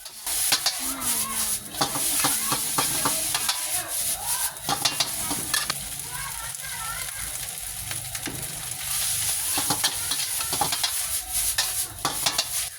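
Vigorous stir-frying of rice in a wok over high heat: loud sizzling under rapid, repeated scraping and clanks of a spatula against metal, continuous throughout.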